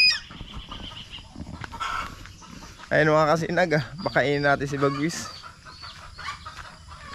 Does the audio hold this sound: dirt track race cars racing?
no